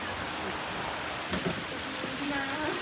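Rain falling steadily on a forest road, a soft continuous patter and hiss at moderate distance, with faint background sounds but no clear talk.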